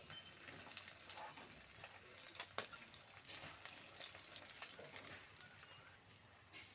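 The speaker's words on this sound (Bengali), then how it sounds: "মাছের মাথা আমি 2 পাশ উল্টে পাল্টে খুব ভালো করে ভেজে নিয়েছি, একদম লালচে করে।" Katla fish heads sizzle steadily in hot oil in a wok, a dense crackling fry running continuously with occasional sharper pops and a turning sound partway through.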